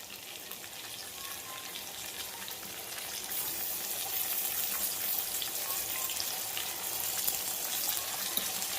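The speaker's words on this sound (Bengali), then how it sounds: "আজকে আলুটা ভেজে ওই ভিতরেই মশলাটা দিয়ে ভালো করে কষাবো।" Fried potatoes sautéed with spice masala in a pan give a continuous, even hiss of sizzling oil that grows slightly louder partway through, with no talking.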